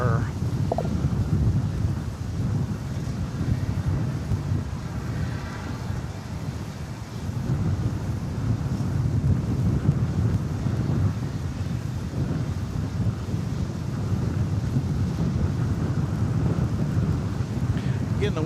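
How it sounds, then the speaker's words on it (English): Strong wind of about 20 mph buffets the microphone at an airport at night, a steady, dense roar with gusty swells and no clear speech. "the wind is blowing about 20 miles an hour"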